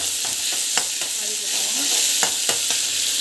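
Onions sauté in a pan with a steady, close sizzling hiss, broken by a few sharp clicks and scrapes from stirring. No voices are heard.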